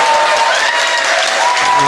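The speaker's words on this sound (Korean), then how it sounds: "젊은이들의 함성" A dense crowd of young people at a South Korean presidential election gathering roars and cheers with clapping mixed in, a loud, continuous wash of voices and applause.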